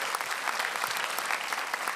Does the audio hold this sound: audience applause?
yes